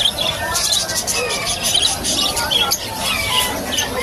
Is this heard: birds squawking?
yes